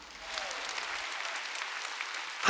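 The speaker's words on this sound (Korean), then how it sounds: "한번 박수 치라고." A congregation at a Sunday church service breaks into applause, a steady wash of many hands clapping at moderate volume that swells sharply at the very end.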